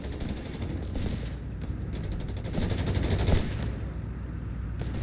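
Company of Heroes 3 battle with bursts of machine-gun and rifle fire rattling fairly faintly in rapid clusters, a grenade thud among them, continuous over a low rumbling background.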